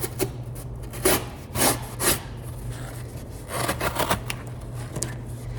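An 80CRV2 steel knife saws through cardboard in a few close, rasping strokes, each a short gritty burst, over a steady low hum with no talking.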